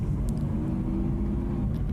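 A recorded car engine holds a steady, continuous low note, droning loud and even throughout with no talk over it.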